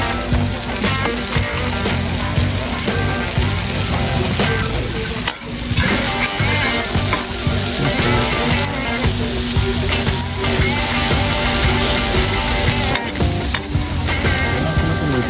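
Garlic and chili sauté in a hot pan at a birthday feast, a loud continuous close sizzle with stirring scrapes throughout, no talking.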